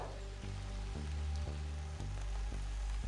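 Rain falls on an outdoor brick-making site as a constant broadband hiss, with faint regular soft knocks pulsing underneath and no voices.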